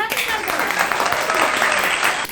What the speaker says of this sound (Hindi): तालियां कर दो जरा इनके लिए।